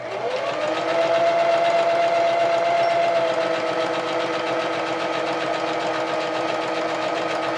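A sewing machine stitches a sock monster in a steady, continuous mechanical whir with a fast rhythmic rattle, loud and close, running alone throughout.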